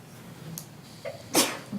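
A single sharp sneeze bursts out near the microphone after a brief intake of breath, in an otherwise quiet room.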